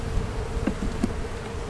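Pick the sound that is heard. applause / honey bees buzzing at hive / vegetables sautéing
honey bees buzzing at hive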